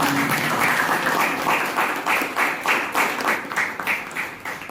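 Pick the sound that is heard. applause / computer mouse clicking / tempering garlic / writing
applause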